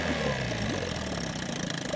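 A 1956 Johnson 5.5hp CD-13 outboard motor runs on a test wheel with 16 to 1 fuel mix, a steady mid-pitched engine drone with slight uneven knocking, continuous and fairly near.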